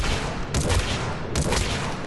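Disciple shotgun in Mass Effect 3 fired rapidly, two heavy broadband blasts about 0.8 seconds apart over a dense, noisy background, with no voices.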